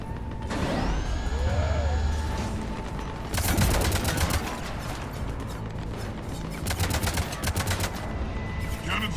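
Cannon gunfire in the game Mass Effect 3, bursts of rapid mechanical firing with sharp rattling shots and clanks amid game effects, loud and repeated in two main volleys.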